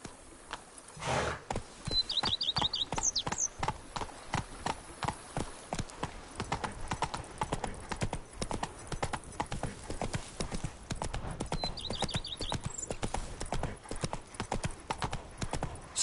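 Horse hooves clatter in a steady rhythmic clip-clop while riding in The Witcher 3 video game. A couple of brief whinnies sound over the quiet, continuous beat, with no talking.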